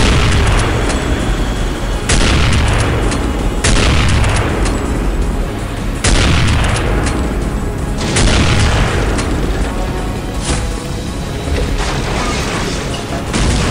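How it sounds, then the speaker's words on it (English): Sniper rifle gunfire in Counter-Strike: Condition Zero Deleted Scenes, heard as loud, sharp reports cracking out every couple of seconds over dense game noise and music. "Oh, sweet, we got a sniper rifle."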